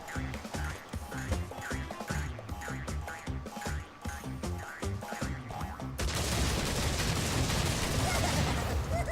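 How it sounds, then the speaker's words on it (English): Explosion and gunfire effects from the Crash Bandicoot N. Sane Trilogy video game: rhythmic bursts of booming blasts over game music, then a dense sustained roar of noise in the final seconds, loud throughout. "I love the explosion effects there"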